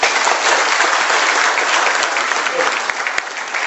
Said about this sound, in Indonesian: Aplaus yang meriah.